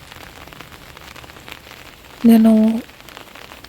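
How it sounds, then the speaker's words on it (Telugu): Heavy rain falls fast on a home garden with newly planted plants, giving a soft, steady patter throughout; a person briefly speaks a single word partway through. "వర్షం ఇంకా చాలా ఫాస్ట్‌గా వచ్చింది"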